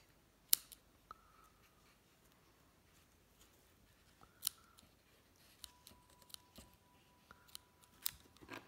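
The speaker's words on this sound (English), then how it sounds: "I think I need to sharpen my scissors." Scissors trimming ribbon tails on a handmade Mother's Day card: a few crisp, quiet snips spaced out over several seconds, close and isolated in a still room.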